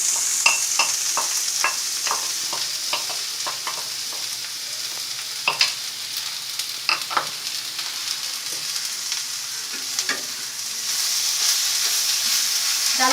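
Ground lentil paste frying in a pan is stirred with repeated scraping strokes in an uneven rhythm over a steady close sizzle, which swells louder near the end.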